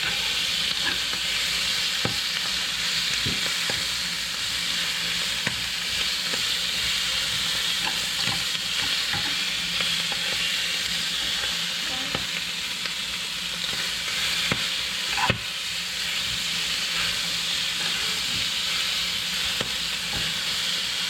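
Squid sizzling and frying in a hot pan at dusk on the rocks, a steady bright hiss with occasional pops and crackles throughout, close and continuous with no talking.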